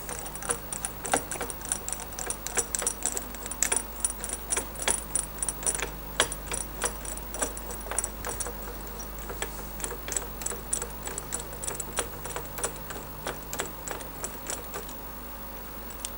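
Rapid metallic ratcheting clicks while the bolts of a bearing puller are wound down on a Rotax engine, a close, steady run of sharp ticks lasting the whole stretch, with no talking.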